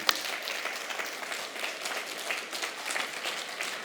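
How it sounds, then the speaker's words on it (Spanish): A church congregation applauds together at a worship service, steady crowd clapping at moderate loudness from start to finish with no voices heard over it. "Denle un aplauso al Señor bien fuerte"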